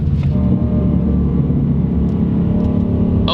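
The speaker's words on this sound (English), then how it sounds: "I love the little itty bitty whine you get when you downshift." A 2024 Ford Mustang GT V8 rumbles loud and close, with a faint rising whine layered over the engine drone as it downshifts, no talking.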